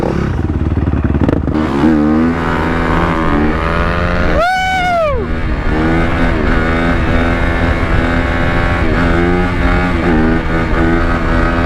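A Yamaha motorcycle engine runs loud and close throughout, with a steady harmonic drone and one sharp rev that rises and falls midway while being ridden.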